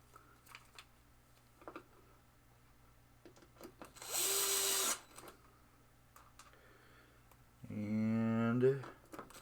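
A power driver sets screws to hold down the center post on a 1972 Williams Superstar pinball playfield in two separate whirring bursts, the second rising in pitch, with quiet handling noises and talk between them.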